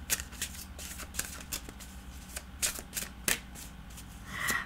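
Tarot cards being shuffled by hand in a quiet room, a close, soft series of riffling snaps and flicks in an uneven rhythm, with a brief brushing swell at the end.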